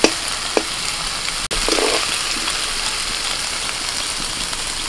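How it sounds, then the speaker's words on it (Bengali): Bombay duck (lote fish) frying in a pan while being stirred, a steady close crackling sizzle with a few sharp scraping knocks near the start and no talk. "নাড়তে নাড়তে এরকম ঘাটা ঘাটা হয়ে গেছে, হ্যাঁ নাড়তেই থাকতে হবে।"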